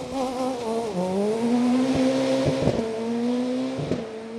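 A Ford Fiesta rally car on a Yorkshire gravel stage, its engine howling loud and close, pitch rising and dipping through gear changes, with sharp pops and crackles and no talk.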